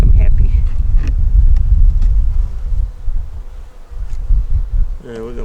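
Honeybees buzzing around a nuc hive while a beekeeper works the frames outdoors, a steady close drone running through the whole stretch with wind rumble and a voice speaking over it near the end.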